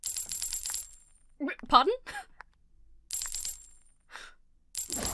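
Coin-collecting chimes from a mobile game advert, two bright jingling bursts with a third at the very end, separated by quiet gaps and a few brief spoken words.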